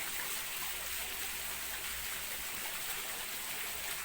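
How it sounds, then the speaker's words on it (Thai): Water pouring steadily down into a pool, a constant rushing splash close by with no voices. "ไม่เห็นน้ำไหลตกลงมาที่แอ่งนี้หลายวันเลย"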